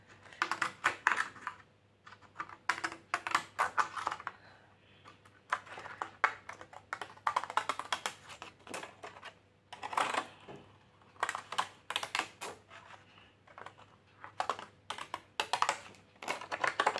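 Pinking scissors cutting paper for a scrapbook-style altered book: rapid, close crunchy snipping in repeated bursts separated by short pauses, with no talking.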